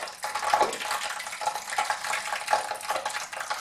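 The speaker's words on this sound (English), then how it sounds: "It's interesting to have all of that water bubbling in this wax." Water bubbling and simmering in melted cheese wax over low heat, a steady close fizzing and popping texture with scattered brighter pops, continuous throughout with no talking.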